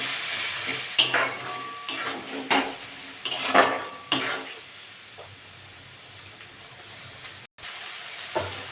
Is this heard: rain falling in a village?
no